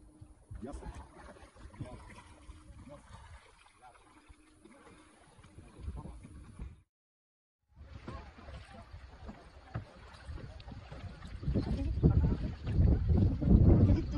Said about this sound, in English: Oh, we are kayaking.